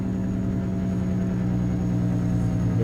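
A heavy truck with what is believed to be a Caterpillar engine, in American Truck Simulator, rumbles steadily with a deep, continuous, pulsing drone throughout, loud and close with no talk over it.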